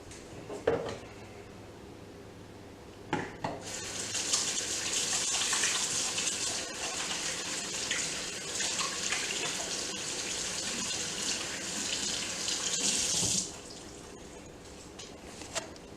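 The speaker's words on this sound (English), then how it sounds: "I'm going to wash my hands real quick" A kitchen tap runs while hands are washed, a steady close rush of water starting after a few clicks and knocks, lasting about ten seconds before being shut off with a clunk, no talk.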